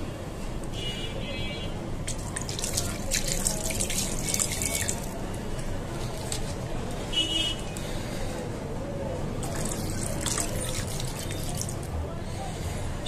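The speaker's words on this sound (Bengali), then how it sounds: "এখন আমি দিয়ে দেব পানি।" Water poured into a pot of hand-marinated beef for a beef and pointed gourd curry, a steady splashing flow with bright bursts of splatter, close and moderately loud.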